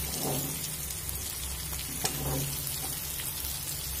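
Cauliflower pieces fry in oil with a close, steady sizzle and crackle, a dense continuous hiss with a small clink or stir near the middle and no voices.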